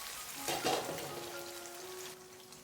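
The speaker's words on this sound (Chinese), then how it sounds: "就像视频中这样慢慢的煎制，把豆腐煎干水分，煎出香味" Soy-sauce-coated dried tofu (xianggan) sizzles gently in a pan over slow heat, a soft, quiet crackle with a brief louder burst early on and a faint tonal hum beneath.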